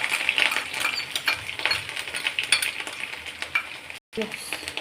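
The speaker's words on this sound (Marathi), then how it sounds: "लसूण मिरची छान फ्राय झाली आहे" Crushed ginger, garlic and green chillies fry in hot oil in a pan, a dense, steady sizzle with stirring scrapes and light metallic clinks, briefly cut off near the end.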